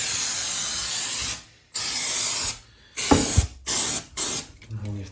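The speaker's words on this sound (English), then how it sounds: "spray that all on this silicone" Several hissing bursts of aerosol silicone sealant remover sprayed onto silicone, some long and some short, with brief pauses between them and a little handling noise.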